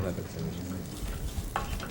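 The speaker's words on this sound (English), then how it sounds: "when the bacon is in the frying pan" Thick-sliced bacon frying in a pan gives off a steady, close sizzle and crackle, with a couple of brief clinks from stirring toward the end.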